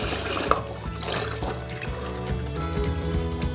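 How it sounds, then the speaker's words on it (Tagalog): Water trickles and pours steadily into a pan holding a ham in pineapple juice, close and continuous, with small clinks and drips over a low hum. "Lagyan natin ng tubig."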